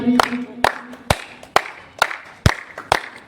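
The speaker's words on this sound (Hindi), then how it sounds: "जोरदार तालियां हो जाए गीता कुमारी।" Rhythmic hand claps honour the third-place winner of a girls' swimming competition at MH Club & Resort in Ranchi, sharp distinct claps roughly twice a second, close and fairly loud.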